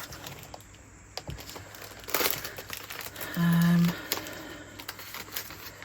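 Paper cut-out collage images rustle and crinkle as a folder of them is handled, with soft crumpling and a brief louder swish midway, quiet and close. No one talks.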